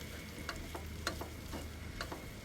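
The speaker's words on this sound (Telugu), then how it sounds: "ఒక్కసారి కింద పైకి పై కిందకి ఇలా మనం కలిపేసుకుందాం" Spices frying in a pan for a spicy curry, stirred up and down, give a steady close sizzle with soft scraping strokes recurring about every half second.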